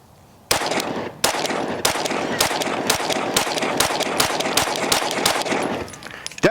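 A Glock 9mm pistol with a compensated barrel fires a rapid string of about a dozen loud, sharp gunshots at a steady pace, close by, following a brief quiet start.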